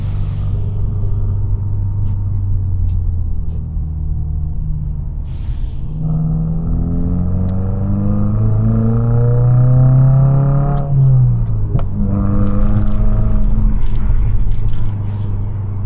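A 2023 Subaru WRX drives on a snowy road, its engine droning low and loud from inside the cabin, revs climbing through a gear then dipping sharply in a rough downshift before pulling again.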